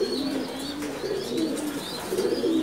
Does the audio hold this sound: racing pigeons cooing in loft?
yes